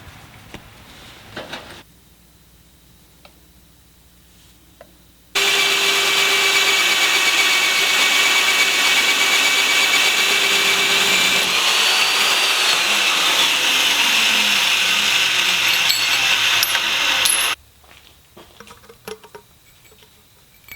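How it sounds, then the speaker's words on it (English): A power tool cuts a notch in metal tubing for a transmission support, starting abruptly, holding a loud steady whine for about twelve seconds, then stopping, with quieter shop noise before and after. "I'm going to cut a notch in this tubing"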